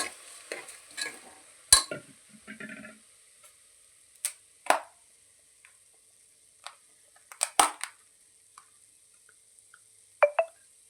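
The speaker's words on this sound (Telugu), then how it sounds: "ఇది కూడా కొద్దిగా ఆయిల్లో నెయ్యిలో వేగనిచ్చి ఎసురు వాటర్ వేసేసుకున్నాం" Rice tossed in oil and ghee in a pan for sweet corn pulao gives a faint sizzle, broken by scattered scrapes and clinks of stirring with quiet pauses between.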